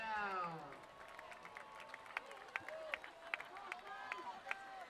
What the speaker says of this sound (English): This crowd is going to get rowdy for this 3rd and goal for the Timberwolves